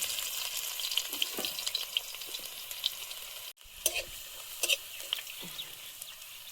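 Steady crackling sizzle of crushed garlic, five-spice seeds and cinnamon frying in hot oil, with occasional stirring scrapes and clinks close by; no voices.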